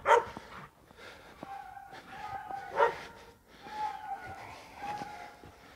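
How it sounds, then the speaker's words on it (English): A dog barks excitedly in bursts with yips and whimpers between them, fairly close and moderately loud, during a winter weather event in Pike County, Indiana. "Blue Dog's going crazy."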